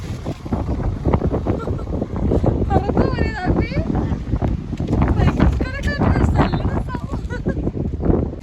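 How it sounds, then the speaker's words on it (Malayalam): Strong wind roars and buffets the microphone in a steady, loud rush outdoors, while a voice speaks over it. "എന്റെ പൊന്നു ഗൈസ്, ഭയങ്കര കാറ്റിട്ടോ."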